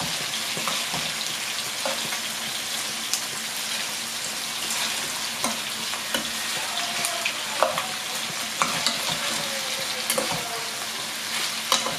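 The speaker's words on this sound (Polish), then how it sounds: "Podsmażamy chwilkę naszą cebulkę." Chopped onion fries in a pot over a very low gas flame, giving a continuous soft sizzle and crackle with occasional stirring clicks. It sounds steady and close, with no talking.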